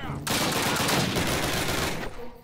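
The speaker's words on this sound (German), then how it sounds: "Ein Schuss, ein Treffer." BAR automatic rifle gunfire in the Call of Duty video game comes as one loud, rapid sustained burst lasting under two seconds, then cuts off.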